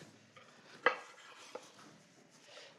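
A knife cuts bacon slices on a board in a quiet kitchen, with one sharp knock against the board, a softer second tap and faint rustling between.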